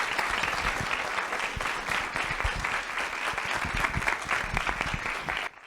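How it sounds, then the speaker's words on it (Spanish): Sustained applause from a forum audience for a psychologist, dense steady clapping from many hands filling the room, loud and continuous until it cuts off at the end. "que se oiga más fuerte el aplauso para la psicóloga María Elena Barcelata Lagunes"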